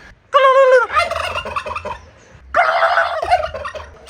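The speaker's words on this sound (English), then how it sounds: "Oh, there's a turkey. Let's see if I can get him to gobble." A wild turkey gobbles twice near green mountains, loud and close, each call a quick rattling burst with a short pause between them.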